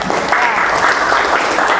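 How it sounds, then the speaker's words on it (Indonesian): A burst of steady clapping from a group fills the whole moment, dense and even, with no voices over it. "tepuk tangan buat kita semua"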